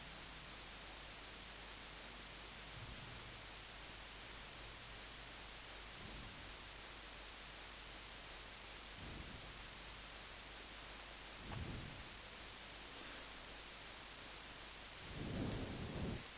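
Thunderstorm with steady heavy rain hiss throughout, broken by several low rumbles of thunder, the loudest near the end.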